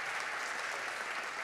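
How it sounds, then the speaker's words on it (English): Audience applause at a game-development talks event in Berlin, a steady, even wash of clapping filling the room with no voices over it. "Give an applause."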